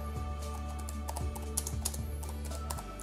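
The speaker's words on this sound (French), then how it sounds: "Les touches émettent un bruit et au final, on se retrouve avec un clavier compact mais aussi fragile." Keys clatter on a compact Aukey KM-B8 Bluetooth keyboard, a quick irregular run of light close clicks over a steady low hum.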